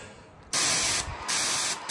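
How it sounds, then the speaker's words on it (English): Paint spray gun being flushed of green paint, with two loud bursts of hissing spray separated by a short pause, close and steady. "turn the nozzle like that to spray all the green paint out until the thinners come through"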